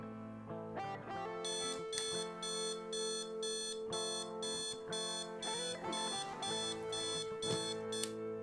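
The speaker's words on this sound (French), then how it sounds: "Le réveil programmé de Vincent remplit son office" A programmed alarm clock going off at 7 a.m., a bright, rapid pulsing electronic beep repeating in steady bursts over a gentle musical background, fairly quiet.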